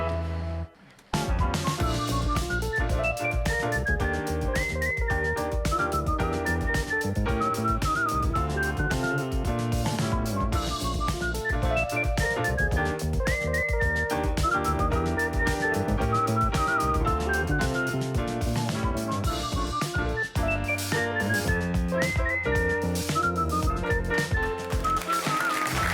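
A whistler from Martinique whistles a long, steady melodic line over dense musical accompaniment, the notes continuing almost without break for around twenty-five seconds.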